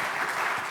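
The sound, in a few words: audience applause for the panelists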